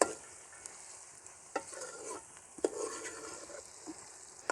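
Chopped onions with garlic and ginger frying in a pan for an egg curry, a steady soft sizzle broken by several louder stirring scrapes and clinks, close and continuous with no talking.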